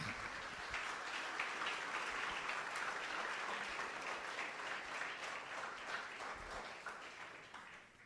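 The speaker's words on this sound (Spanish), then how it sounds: "Le damos un aplauso al Señor." A church congregation claps during a sermon, a broad sustained burst of applause at a distance that stays steady and then starts to thin out and fade at the end.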